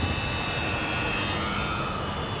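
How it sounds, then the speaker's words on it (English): A Dynam Sbach 342 four-channel RC aerobatic plane flies overhead, its small electric motor giving a steady, loud whining buzz with a sustained high tone and no breaks. "right now I'm just giving you guys a quick preview of how this plane flies"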